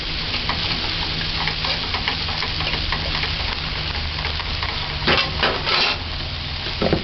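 Half a green Scotch bonnet pepper sizzles in a fish and cabbage stir-fry pan, a steady close frying hiss throughout with brief louder crackling bursts near the end.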